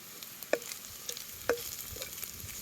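Onion, ginger and garlic fry in a pan over a wood-fired stove, a faint soft sizzle broken by a couple of sharp spatula taps and scrapes, close but quiet.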